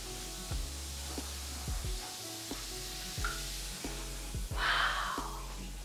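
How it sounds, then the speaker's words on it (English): A CBD bath bomb fizzes fast in water, a steady, close hiss with faint crackles and soft bubbling pops running throughout, no voices. "I've never had like this fast of a sizzling bath bomb before."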